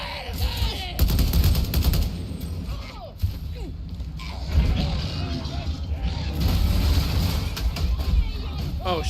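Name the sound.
gunfire shooting at an enemy's ankles in a video game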